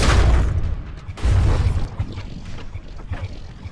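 Cannon fire slamming into a frigate's bow during a From The Depths naval battle: heavy booming impacts, loud at the start and again near 1.2 seconds, then a rumbling run of smaller blasts and debris that fades.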